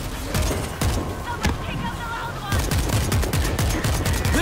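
Rapid gunfire bursts crackle in the zombie shooter World War Z, dense overlapping shots with short pauses, loud and close, with voices shouting over the fight.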